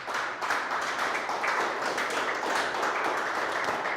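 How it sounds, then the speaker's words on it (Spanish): Steady, dense clapping from a crowd at a church service, a continuous wash of hand claps filling the whole moment with no pauses. "Dale un aplauso a Dios por todo eso."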